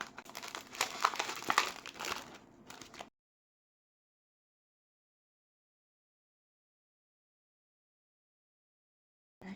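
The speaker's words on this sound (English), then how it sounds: "Into a piping bag." A plastic piping bag crinkles as it is handled and filled, giving close, busy rustling for about three seconds before near silence.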